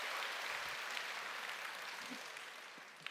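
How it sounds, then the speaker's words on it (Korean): Steady dense crowd applause from an audience at a skincare seminar, a broad even wash of clapping that holds for about three seconds and slowly fades slightly. "박수."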